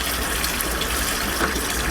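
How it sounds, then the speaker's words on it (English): Warm water gushes steadily from a tap while preparing a batch of homemade wine, a loud, close, continuous rushing stream with no talk. "I know I'm going to have to use some warm water for this"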